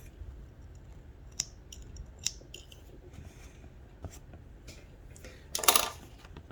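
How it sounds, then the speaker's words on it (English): A few short, crisp snips of scissors trimming embroidery thread on a chain-stitch embroidery machine piece, with a louder rustling cut near the end, close by in a quiet room. "This is my starting thread. I'll cut that off."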